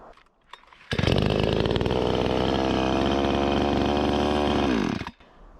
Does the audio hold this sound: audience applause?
no